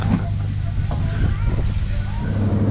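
A steady low boat engine rumble with throaty exhaust drone on a fishing charter in Shark Bay fills the clip, with wind noise and a voice speaking faintly over it.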